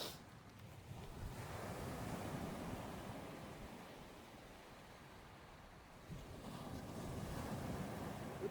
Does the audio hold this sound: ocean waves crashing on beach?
yes